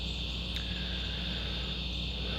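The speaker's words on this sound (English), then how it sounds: "You hear my buddies, the cicadas, the sounds of summer." A steady, continuous buzz of summer cicadas holds throughout at a constant level, droning in the background outdoors, with no voices.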